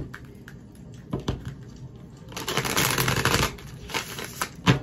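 Tarot cards shuffled by hand nearby: a few soft taps, then a dense riffling patter that swells and fades in quick bursts.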